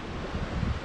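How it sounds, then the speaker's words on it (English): Strong wind gusts buffet the microphone outdoors as a steady, close, rumbling roar that swells slightly for under a second, with no voices. "it's windy as hell right now"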